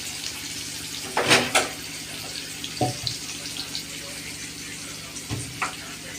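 Tap water runs steadily into a sink as raw meat is washed by hand, with a few louder splashes and clatters standing out over the continuous flow.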